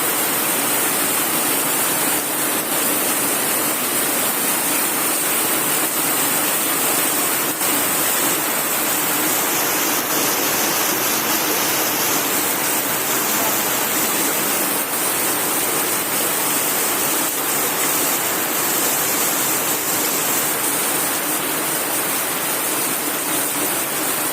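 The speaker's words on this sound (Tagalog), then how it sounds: "Yan, first time na umulan." First rain after a long drought falling steadily on a farm with crops, a dense, loud, unbroken hiss of rainfall with no pauses for the whole stretch.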